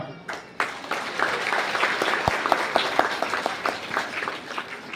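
An audience at a church golden jubilee celebration claps in steady, dense applause that carries on throughout, fairly loud and close, with a few sharper individual claps standing out.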